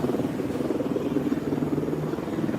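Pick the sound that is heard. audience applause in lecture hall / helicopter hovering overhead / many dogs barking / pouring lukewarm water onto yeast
helicopter hovering overhead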